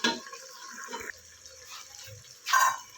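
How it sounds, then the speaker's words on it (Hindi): Water poured into a pot of browned mutton karahi, a short close splash and trickle after some quiet kitchen noise, followed by a second brief louder pour. "अब इसमें हम पानी डालेंगे।"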